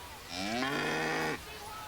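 Cow mooing in a mock insurance advertisement during an MLB The Show 25 baseball broadcast, one loud sustained moo of about a second, clear and close over a faint background.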